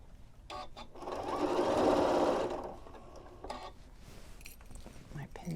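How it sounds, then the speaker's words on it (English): A Janome M6 sewing machine stitching a bamboo neck warmer runs in one short, fairly loud burst of fast whirring before stopping, with quieter handling noise around it. "a very strong sewing machine, this is your machine, this Janome M6"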